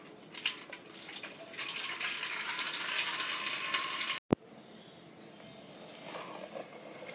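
Excess water being poured off from soaked sorghum (jowar) batter for papad, a soft continuous trickling stream that stops abruptly after a sharp knock, followed by faint quiet drips, no talk.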